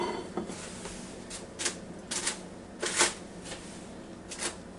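Aluminum foil being peeled back from cooked vegetables makes a series of sharp, bright crinkles and crackles in uneven bursts, close by, with no talking.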